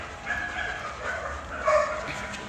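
A Belgian Malinois gives a few short barks and yips, moderately close, with a louder bark near the end over a quiet background.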